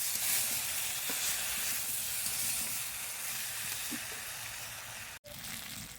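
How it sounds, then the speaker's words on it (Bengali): Potato, brinjal and taro sautéing with mustard paste in a pan produce a constant close hiss and sizzle, with a few faint stirring knocks and a brief cut-out near the end. "এবার দিয়ে দেবো সর্ষে বাটা দিয়ে ভালো করে কষিয়ে নিয়ে"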